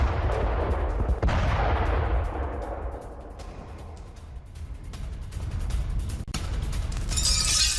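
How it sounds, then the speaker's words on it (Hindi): Heavy gunfire in fighting between Russian and Ukrainian armies: a dense burst of sharp shots and booming blasts, loud and close at first, fading into scattered distant cracks before another loud burst at the end. "दोनों सेनाओं के बीच जबरदस्त गोलीबारी हो रही है"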